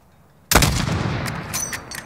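A single loud sniper rifle shot in Modern Warfare, a sharp blast followed by a long rolling echo that fades across the next second and a half.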